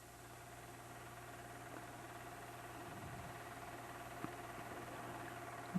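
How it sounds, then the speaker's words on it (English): A car engine runs steadily while the car is driven, giving a low, even hum with a faint vibration throughout and no voices. "I think dear old Dad is helping Johnny drive."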